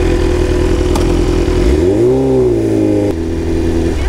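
A BMW S1000RR sport bike running close by while carrying a passenger. The engine drones steadily, then its pitch swoops up and back down in a brief rev before settling into an even hum.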